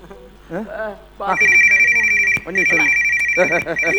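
A telephone rings in a comedy scene, a bright repeating electronic ring that keeps going under people talking loudly over it.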